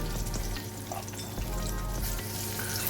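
Jackfruit nuggets frying in hot oil and being turned over, producing a dense, steady crackling sizzle with light clinks of the utensil, close and continuous without any speech.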